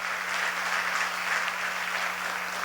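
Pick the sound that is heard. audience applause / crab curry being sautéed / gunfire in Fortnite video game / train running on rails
audience applause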